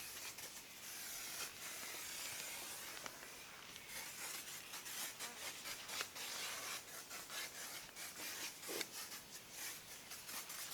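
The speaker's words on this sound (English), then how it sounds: "Just spray it on there, it's a nice foam application." Close, bright hissing foam spray in repeated bursts onto a 4x4, with some rubbing and scrubbing sounds between, no talking.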